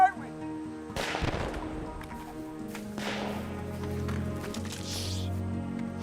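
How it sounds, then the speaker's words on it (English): Gunfire in a war movie battle scene: a sharp crack like a shot at the start, then sustained loud rumbling and bursts under dramatic music and voices. "There's bullets flying everywhere!"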